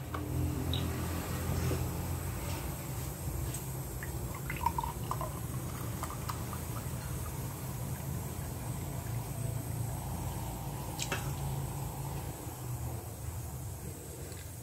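Oil and milk are poured into cake batter in a home kitchen, giving a soft, steady liquid pour with faint drips and light clinks, close and quiet, with no talking.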